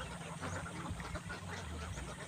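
Ducks being raised in a muddy, rain-soaked pen quack and honk repeatedly in an overlapping flock chorus, steady and moderately close.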